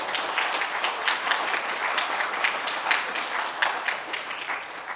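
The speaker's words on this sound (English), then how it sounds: "So just give them a round of applause." Steady audience applause for guests at a high school civics forum with officials, sustained clapping from a crowd filling the room without a break for several seconds.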